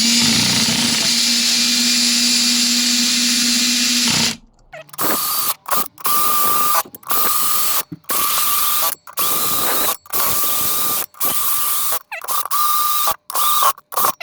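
A power drill tightening nuts onto bolts on split wheel rims whirs in a long run, then in a series of short bursts with brief pauses between, ratcheting and loud up close.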